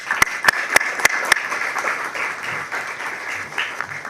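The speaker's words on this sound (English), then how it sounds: "another round of applause for our presenters tonight" Audience applause at a school board meeting for the presenters, a few sharp near claps opening into a steady, moderate wash of clapping that carries on alone without talk.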